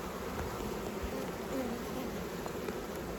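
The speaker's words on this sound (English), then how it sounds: "Pollen on these foraging bees coming back," Honey bees forage and return laden with pollen at a hive entrance in a botanical garden, giving a steady close buzzing drone of many wings with no voices.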